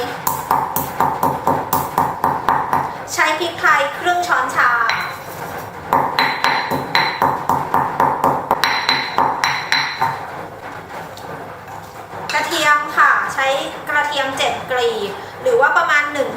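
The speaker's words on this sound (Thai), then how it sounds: "โขลกพริกไทย" Black pepper pounded in a mortar with a pestle, a steady rapid series of hard ringing thuds close up, continuing under someone talking.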